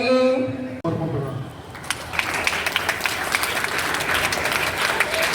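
Audience applause breaks out at a yogasana competition programme, as a sung passage gives way to steady, broad crowd clapping that carries on to the end.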